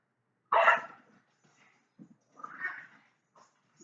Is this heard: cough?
no